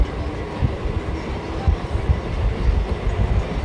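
A Ranaghat–Bongaon local train pulls out of Akaipur Halt and takes a curve, its wheels and carriages rumbling and clattering steadily up close, with no talk.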